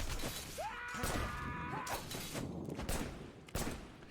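Distant enemy gunfire in the video game Wanted: Dead, sharp shots coming from a shooter above, mixed with clanging and a rising tonal game effect, heard without talk.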